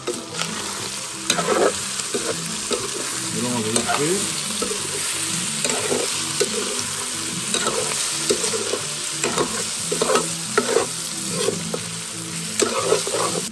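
Andouille sausages fry in a pan for a Réunion rougail, a constant close sizzle with repeated scraping and clattering stirs over it, and no talk.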